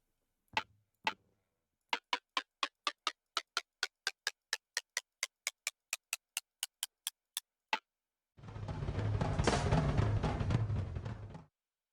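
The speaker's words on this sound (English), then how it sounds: "The hi-hats are made by using glass," Minecraft note block on glass gives short crisp hi-hat clicks, a couple of single taps and then a steady run of about two dozen evenly spaced ticks, followed by a separate burst of dense noisy sound, all quiet.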